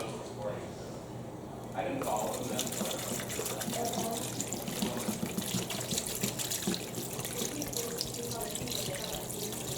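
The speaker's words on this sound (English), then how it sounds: "Now I'm going to add some water." Water runs steadily from a tap and splashes into a cooking pot, a continuous gushing stream of almost a gallon starting after a quiet moment.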